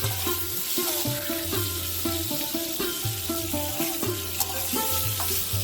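Paneer cubes fry in hot oil for palak paneer, giving a constant crackling sizzle with occasional stirring, under a steady tonal background.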